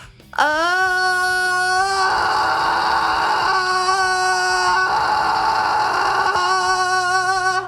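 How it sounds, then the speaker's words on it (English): A male singer holds a clean sung note, then pushes it into a harsh, gritty scream and sustains the rough tone for several seconds, loud and close, with no talking over it. "going from singing clean to screaming"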